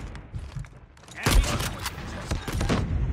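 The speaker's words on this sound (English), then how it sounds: "I haven't sniped in a while" Loud gunfire in a first-person shooter's ranked match, a sharp burst about a third of the way in followed by further shots and rattling effects, with a voice talking over parts of it.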